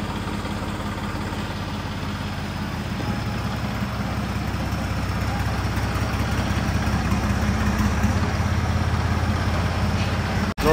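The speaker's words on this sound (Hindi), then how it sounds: "कर दिया ट्रैक्टर स्टार्ट" A tractor engine idles steadily after starting, a close, continuous low rumble with a slight rise in loudness partway through and a brief knock near the end.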